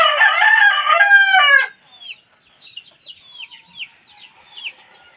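A backyard chicken crows loudly for about a second and a half, then softer clucks and chirpy calls follow in scattered bursts, close to the microphone with no talk.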